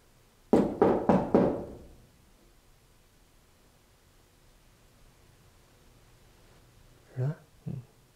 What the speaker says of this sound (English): I'm gonna knock. Can you knock back for me?